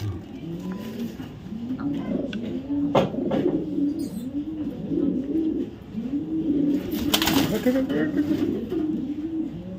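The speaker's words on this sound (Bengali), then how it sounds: "টপ কোয়ালিটির রেড চেকার নর কবুতর" Red checker male racing pigeons from a 2023 BRPFC club loft coo steadily in rolling, repeated phrases, close and continuous, with a few sharp bursts of handling noise breaking through.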